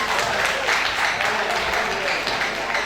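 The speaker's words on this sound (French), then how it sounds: "J'aimerais demander à tout le monde d'applaudir les musiciens." A crowd at a music performance claps steadily throughout for the musicians, a dense, even patter of applause with some voices mixed in.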